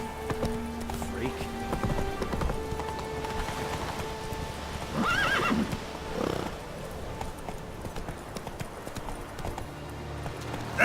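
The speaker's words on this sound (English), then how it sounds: "Come on, Roach." A horse in The Witcher 3 video game gallops with steady, rhythmic hoofbeats and gives a brief whinny, mixed with rain-like game ambience and a voice speaking.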